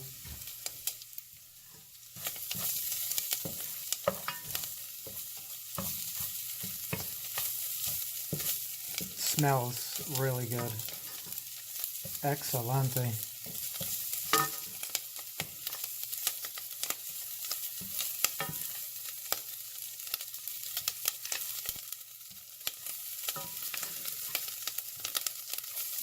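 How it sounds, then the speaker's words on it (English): Steady sizzling and frying in a pan while making tomato basil soup runs throughout, with stirring clatter and a few brief spoken words over it. "now we're starting to get that sizzle"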